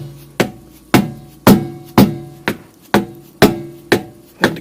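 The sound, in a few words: hammer tapping car axle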